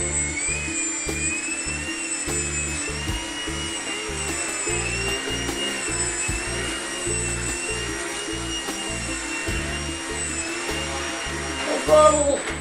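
An indoor slow-flyer RC model airplane's electric motor runs at full power, giving a steady, continuous high whine with a faint rattle that holds through the whole stretch.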